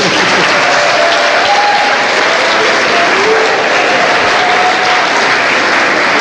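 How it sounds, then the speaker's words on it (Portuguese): A lecture audience in Coimbra gives loud, sustained applause, a thick, even wash of many hands clapping together throughout. "podem bater palmas se quiser"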